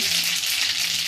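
Mustard seeds and cumin crackle and sizzle in hot oil for a tempering, a dense steady spitting hiss close by with no talk.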